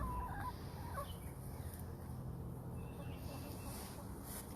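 Chickens cluck faintly on a farm where they are fed leftover greens, a few soft calls scattered over a steady wash of outdoor background noise.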